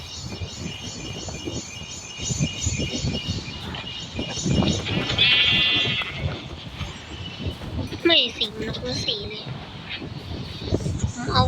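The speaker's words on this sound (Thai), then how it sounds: "เนี่ยแกะ" A Minecraft sheep bleats a few times among game noises while someone talks over it.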